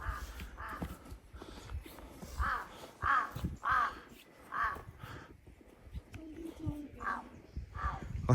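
Crows caw repeatedly on a mountain trek, harsh calls in an irregular series some distance off, while a person speaks briefly beneath them.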